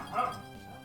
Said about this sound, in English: Can you hear that? That dog? Barking his soul to be in here.